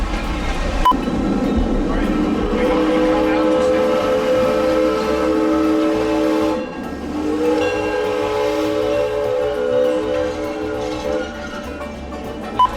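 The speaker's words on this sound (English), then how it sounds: "Steam train." A steam train rumbles past on the Six Flags and Texas Railroad, its long sustained whistle sounding twice, loud and near, over steady rolling noise.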